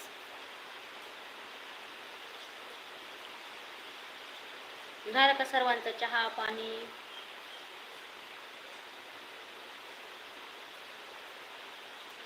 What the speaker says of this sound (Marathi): आत्ताशी पाऊस आलेला आहे आमच्याकडं